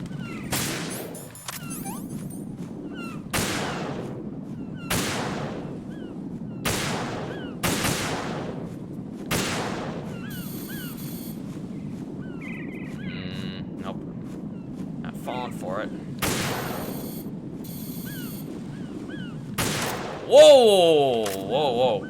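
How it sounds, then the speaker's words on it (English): Gunfire in Metal Gear Solid 2 cracks out as a series of single sharp shots at irregular intervals, fairly loud over a low background, with a voice heard at times. "That shot could have easily blown up the bridge."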